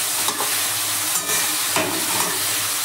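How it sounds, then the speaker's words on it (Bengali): Salted carrots fry in hot oil with a constant close sizzle, broken by a few scraping stirs of a spoon, with no voices. "গাজরটাকে লবণ দিলাম, গাজরটাকে একদম ভালো করে ভেজে নেব।"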